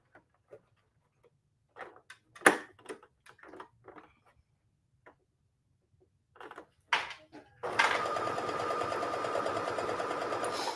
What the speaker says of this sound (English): I am going to backstitch a couple of times, just so, because it's a bag, you want it to last